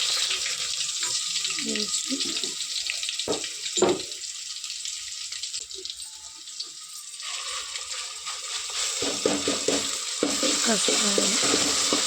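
Ginger garlic paste sizzles steadily in hot oil for chicken bagara rice, with a continuous bright hiss broken by a few stirring scrapes and an occasional faint voice in the background.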